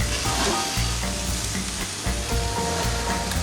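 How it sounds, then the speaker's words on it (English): Petite tender steak sizzles on a hot barbecue grill, a steady close crackling hiss with occasional louder pops and spatters, heard alone without talk. "And then our Petite tender ready for a flip."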